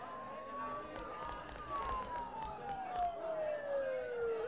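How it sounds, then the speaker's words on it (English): Police sirens in the video game Persona 4, a wailing tone sliding slowly downward, heard at a distance over a steady low background hum. "Don't those sirens sound really close?"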